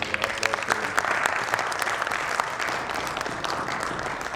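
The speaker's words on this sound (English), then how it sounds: "which needs a round of applause" An audience applauds a retired army general at an indoor conversation event, with dense sustained clapping from a large crowd throughout, fairly close and even in loudness.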